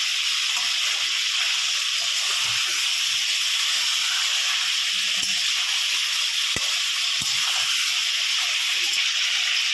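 Chicken pieces frying in hot oil in a kadai give off a steady, even sizzle and hiss that runs unbroken throughout, close and fairly loud, with no talking.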